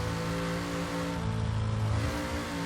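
A supercharged 454 SS Chevelle in Forza Horizon 3 revs hard, its loud engine holding a steady roar that shifts pitch and rises near the end, with no voices.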